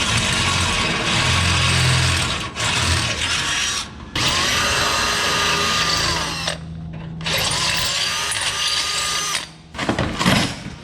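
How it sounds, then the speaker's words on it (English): A power drill whirs loudly in long sustained bursts, pausing briefly between holes, with the bit grinding up close through a vehicle frame while installing a Draw-Tite front-mount hitch receiver. "we're going to drill the holes on the frame."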